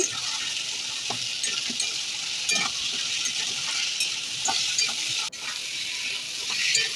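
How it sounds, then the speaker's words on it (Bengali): Crabs fry in hot oil in a pan for a kosha-style crab curry, giving a steady, close sizzle with scraping stirring strokes and a few sharper clinks throughout. "এবার কাঁকড়াগুলো দিয়ে দিলাম। তেলটা যখন একটু ছাড়া ছাড়া হয়ে যাবে তখনই কিন্তু কাঁকড়াগুলো দেবে। ভালো করে নেড়ে চেড়ে নেব।"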